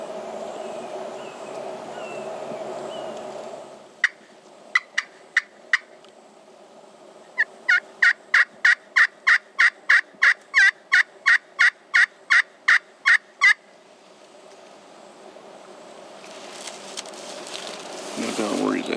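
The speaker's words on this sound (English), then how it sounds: "We think the turkey's in the road on the other side of those palmettos." Wild Florida gobbler gobbling at a distance, with a few sharp early calls followed by a long rapid run of repeated gobble notes, then quieter rustling and faint outdoor noise.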